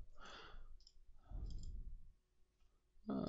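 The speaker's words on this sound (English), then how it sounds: "Click, click." Computer mouse clicks while someone works in GameMaker Language code: a few soft, separate clicks in a quiet room, ending in a sharper click.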